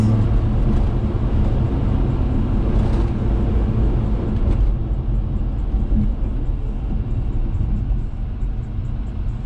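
A Daihatsu Hijet kei truck drives along at around 55 to 60 km/h, its engine a steady loud rumble with road and wind noise that shifts slightly as it moves through the gears, with no talking.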